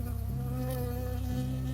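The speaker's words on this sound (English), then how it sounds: "I got stung by a bee." A bee in the Firewatch video game buzzes loudly close by, a steady, droning hum that wavers slightly in pitch, with no talk over it.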